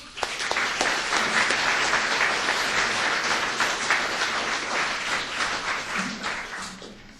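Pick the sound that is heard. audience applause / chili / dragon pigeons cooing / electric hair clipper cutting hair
audience applause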